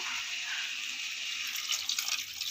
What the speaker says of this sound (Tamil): அந்த தண்ணியை இப்போ சேர்த்துடலாம்